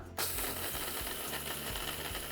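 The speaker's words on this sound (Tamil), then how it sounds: "நாம் மிக்சி ஜாருக்கு மாற்றிக்கலாம் எவ்வளவு நைஸாக அரைக்க முடியுமோ அந்த அளவுக்கு நைஸாக அரைச்சி எடுத்துக்கலாம்" Mixer grinder pulverising cooled roasted moong dal and almonds in a jar, a steady loud whirring grind with a rattling, ratchet-like churn that kicks in just after a brief start and runs continuously without talk.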